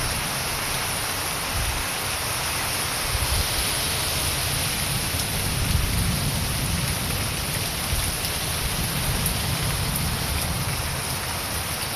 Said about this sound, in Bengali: এরকম যদি কয়দিন বৃষ্টি হয় তাহলে তো মনে হয় প্রত্যেক বছরের মতন ডল মারে দিবে।